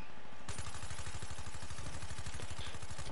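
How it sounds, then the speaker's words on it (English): Rapid automatic gunfire in Black Ops 3, aimed at a robot, rattles on as a fast steady burst of loud shots through most of the stretch after a brief quieter start. "Keep shooting the robot."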